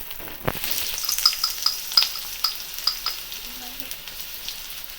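Chopped onion and slit green chilies fry hard in hot oil, a close, steady sizzle with a scraping spatula stir and light clinks of the pan, and no voices.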